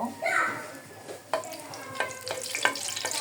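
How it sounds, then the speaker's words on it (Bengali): Tomatoes frying in a pan with oil and torn dried red chillies make a moderate close sizzle, broken by several sharp clinks of a utensil stirring against the pan; a voice is briefly heard at the start. "টমেটোটা একটু ভেজে নিব।"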